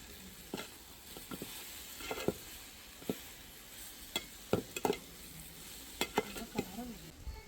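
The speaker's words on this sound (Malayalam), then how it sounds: "നേരത്തെ പൊരിച്ച് മാറ്റി വെച്ച ചിക്കൻ ഇതിലേക്ക് ചേർത്ത് നന്നായി ആ മസാലകളെല്ലാം കൂടി മിക്സാക്കി കൊടുക്കുക" Fried chicken being stirred into masala in a pan for biryani, with a low background sizzle broken by repeated sharp spatula scrapes and knocks at an irregular rhythm.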